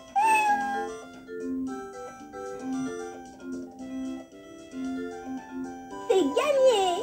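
Cat meows in the V.Smile Dora video game, a synthesized cartoon meow rising loudly at the end over a bright electronic melody, with a child-like game voice heard earlier.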